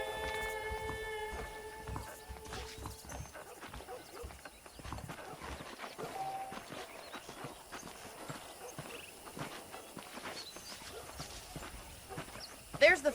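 Steady rhythmic clip-clop of horse hooves in the video game Red Dead Redemption, moderately close, carrying on throughout, with a few brief tones at the start and a louder clatter near the end.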